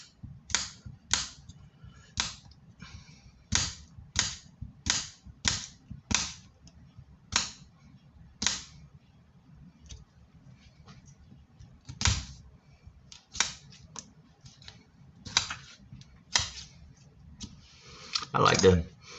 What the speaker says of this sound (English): So, we gonna motherfucking get our chop on with these taters.